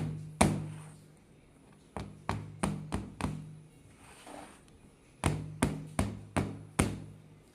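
A pan of rice and lentil dhokla batter is tapped down on a surface to shake out air, giving about a dozen sharp knocks in two clustered bursts separated by a pause, close and fairly faint.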